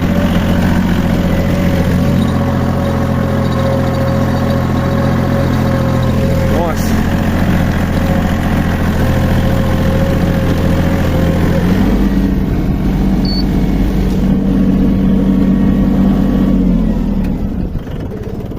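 A tractor engine drones steadily at close range while pulling a plough through a field that previously held potatoes, with a low rumbling tone that shifts slightly partway through and continues loud throughout.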